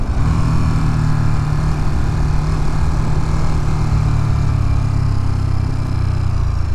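A Ducati motorcycle engine runs loud and close throughout on a road ride, a steady low drone with shifting engine tones as it downshifts, no talking.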